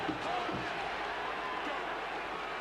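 A large rugby stadium crowd at a 2005 Tri-Nations New Zealand v Australia match makes a steady, loud roar, running continuously throughout with a commentator talking over it.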